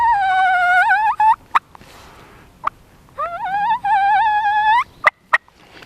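A wild turkey whine imitated on a mouth call for spring gobbler hunting: two long, wavering, nasal whining notes, each ending in a sharp cluck-like click. A few more short clicks follow, close and clear, with no talk.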